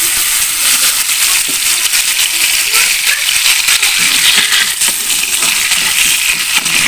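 Ground chili paste poured into a hot pan fries with a loud, continuous, dense sizzle and crackle throughout.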